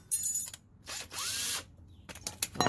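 Drilling on the rear brakes of a 2008 Chevy Impala: bursts of a power drill whirring and grinding, with short ratcheting clicks between them, close and in stops and starts.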